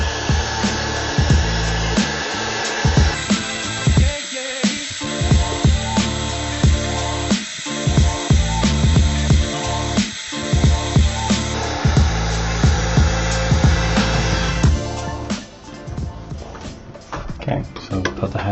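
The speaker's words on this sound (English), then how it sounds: "we'll put the hairdryer down" A hair dryer runs steadily while heating a part of a PS5 controller during a modification, a continuous close whirring blow that drops off near the end, with speech over it.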